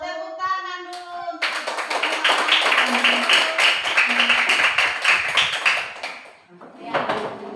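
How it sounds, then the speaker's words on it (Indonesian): A group of children in an Indonesian classroom claps in unison, a dense burst of steady hand clapping that starts abruptly and fills several seconds before trailing off, preceded by singing. "Tepuk tangan dulu."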